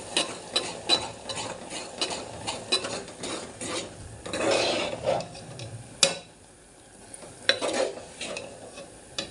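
A spoon stirs and scrapes a coconut mixture with roasted gram dal in a pan, irregular rasping strokes with soft sizzling and occasional clinks of metal on the pan.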